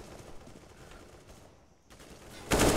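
Distant, muffled Counter-Strike gunfire on de_ancient during an esports match, with faint shots rattling in the background before a sudden loud burst of fire near the end.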